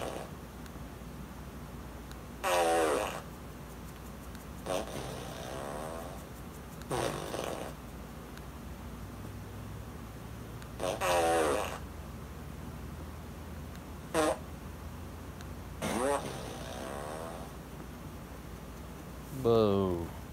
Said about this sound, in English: Why do you not like the fart machine?